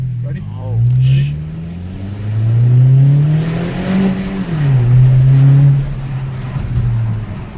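A 2018 Honda Accord with its muffler deleted revs loudly and rises and falls through several pulls, close by, with people talking over the engine.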